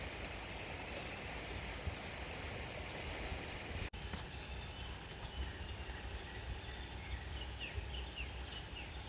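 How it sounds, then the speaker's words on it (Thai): A stream flows steadily behind a resort in Nakhon Nayok, Thailand, with continuous rushing water noise and faint chirps of birds or insects above it, one sharp click midway. "บริเวณข้างหลังรีสอร์ท มีลำธารไหลผ่านด้วยนะครับ"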